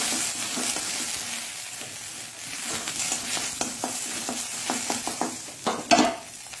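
Hibiscus petals fry in ghee in a pan, a steady close sizzle broken by repeated scraping stirs that grow busier and louder toward the end.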